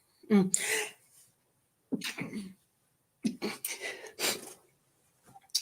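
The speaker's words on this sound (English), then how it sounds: "I'm going to sneeze" A person sneezes sharply a few times in a sewing room, with short gasps and breathy pauses in between, close to the microphone.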